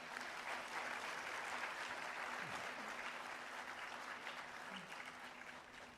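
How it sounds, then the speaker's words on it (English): A large audience applauds steadily for several seconds, a dense wash of clapping that stays even and slowly tapers near the end. "Please join me in welcoming Professor Peter Scott with a big applause."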